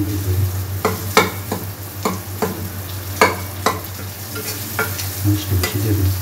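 Egg and vegetables fry in a hot pan for vegetable noodles, a spatula scraping and stirring in repeated sharp strokes over a constant low sizzle, close and clear with no talking.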